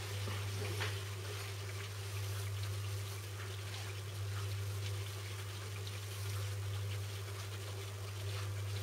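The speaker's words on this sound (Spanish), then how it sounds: "Y ahora ya vamos a poner toda la verdura en la sartén y la vamos a sazonar." Julienned onion and other vegetables sizzle in a frying pan for a fritada, a steady, faint crackling hiss over a constant low electrical hum, with no voices.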